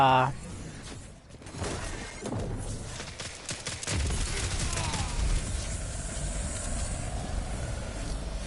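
Pulse rifle fire in a PS4 shooter game, dense crackling bursts and shattering blasts layered over battle noise and a talking voice, continuous and fairly loud through most of the stretch.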